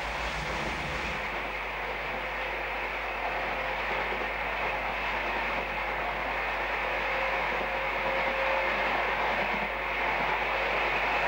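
British Rail APT electric tilting train running under overhead wires, a steady broadband rumble and hiss with a low constant hum, continuous and moderately loud throughout without voices.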